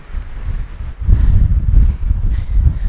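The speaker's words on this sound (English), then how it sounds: "Apologize for the noise, it's really windy out today." Loud, low buffeting wind rumbles against the microphone throughout, swelling stronger after the first second, with no voices, outdoors in Portugal's Algarve near Tavira and Olhão.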